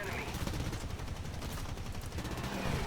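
Aircraft machine gun fire in a World War II flight combat video game, a steady, dense rattle of rapid shots that fills the whole stretch under engine roar.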